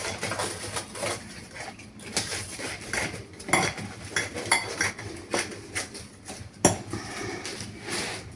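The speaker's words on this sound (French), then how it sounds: "On coupe tout ce qui dépasse." A knife scrapes and clinks against the rim of a quiche dish while trimming off the overhanging pastry, giving close, irregular metallic scrapes and taps with no talking.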